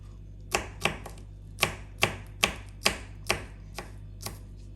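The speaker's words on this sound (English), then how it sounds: "It's a rough chop." A knife roughly chopping garlic on a board for a Jamaican roast yam and saltfish dish cooked outdoors: about nine crisp, fairly evenly spaced chops, close and clear, with no talking.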